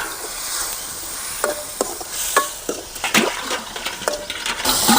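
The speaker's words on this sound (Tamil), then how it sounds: "தக்காளி பழத்தை போட்டு நல்லா வதக்கிடும்" Tomatoes and onions sautéing in a pan for a drumstick and brinjal gravy: a close, fairly loud run of spoon scrapes and stirring strokes over a low sizzle, growing busier toward the end, with no talk.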